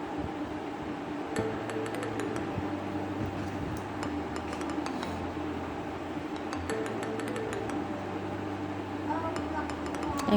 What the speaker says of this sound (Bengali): একটা হ্যান্ড উইক্স দিয়ে আমি আস্তে আস্তে মিক্স করে নিব ব্যাটারের মধ্যে।